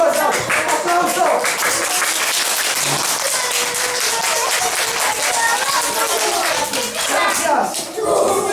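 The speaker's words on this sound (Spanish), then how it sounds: "¡Aplauso!" A classroom group of children claps together at a Christmas Santa Claus visit, a dense, lively patter of many small hands with excited kid voices and chatter mixed throughout.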